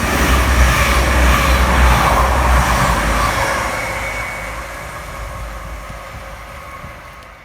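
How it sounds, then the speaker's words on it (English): A Class 222 Meridian train runs through Market Harborough station toward Leicester without stopping, a loud broad roar that slowly fades as it pulls away. "This is a classic 222 Meridian coming through Market Harborough going to Leicester."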